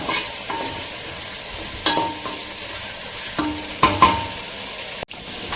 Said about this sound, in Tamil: காரத்துக்கு தேவையான அளவுக்கு வதங்கட்டும்